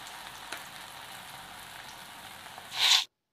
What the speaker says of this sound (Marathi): तर इथं आता तेल गरम झालेलं आहे. तर त्याच्यामध्ये मी हे एक वडा सोडून देते.